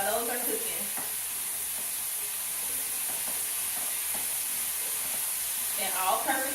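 Breaded pork chops fry in a pan on the stove with a continuous close sizzle and crackle, a few soft clinks and a brief voice heard over it near the end.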